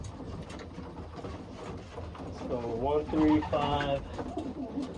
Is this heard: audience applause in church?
no